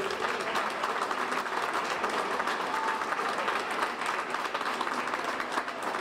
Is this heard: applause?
yes